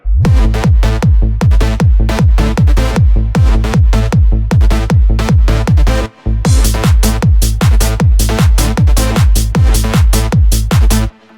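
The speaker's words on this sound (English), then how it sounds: "first drop of the track sounds like this." A loud electronic dance track hits hard with a pounding four-on-the-floor kick and bright synth stabs, briefly cutting out for a beat near the middle.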